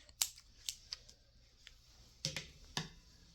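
Scissors snip yarn from a pink bobbin during crochet work, a few quiet crisp cuts spaced apart, close and alone against a near-silent room.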